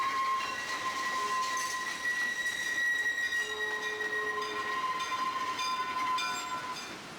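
A White Pass railway train runs steadily, its wheels and cars rolling with sustained metallic squealing and ringing tones, close and loud throughout with no voices.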